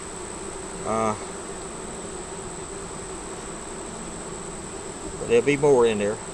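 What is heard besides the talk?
honeybees buzzing at the hive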